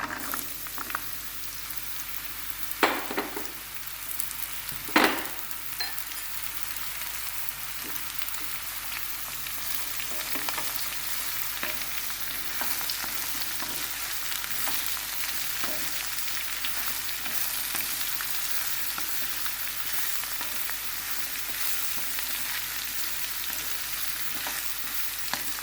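Chopped bottle gourd fries in a pan with a continuous, even sizzle, broken by a couple of louder clattering knocks early on as the pieces go in; no one speaks.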